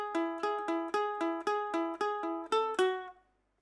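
Ukulele picking section two of the Loki opening theme: about eleven bright, evenly spaced plucked notes forming a short melody, close and clean, ending in a ringing decay.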